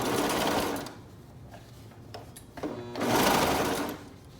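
A sewing machine stitches around a fabric cuff in two rapid motor bursts, one at the start and a louder one near the end, separated by a quieter pause with a few faint clicks.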